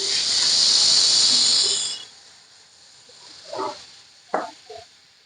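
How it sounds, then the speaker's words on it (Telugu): Butter hisses and sizzles loudly as it hits a heated pan, a bright, steady frying crackle for about two seconds, then it cuts off, leaving a few soft clinks and scrapes. "ఇప్పుడు ప్యాన్ అయితే వేడి చేసుకొని దానిలోకి బటర్ వేసేసుకుందాం మనం"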